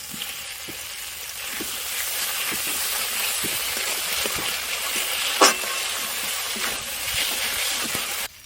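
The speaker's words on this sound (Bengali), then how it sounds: "এবারে ভেজে রাখা আলুগুলো দিয়ে দেবো।" Fried potatoes go into a spiced fish curry, and the oil sizzles in a loud, continuous hiss with faint stirring taps underneath.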